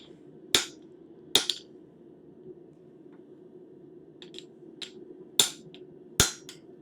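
Metal hammered flat on an anvil, four sharp ringing blows spaced unevenly over several seconds with lighter taps between, clear against a quiet background.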